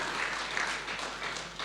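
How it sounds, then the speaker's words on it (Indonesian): A church congregation at a Sunday service gives a brief burst of steady applause, moderately loud and filling the room for under two seconds. "Mari beri tepuk tangan bagi Tuhan kita."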